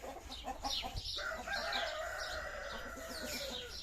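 Chickens cluck steadily in a busy, close chorus while a rooster crows across the middle, with bird chatter filling the background throughout.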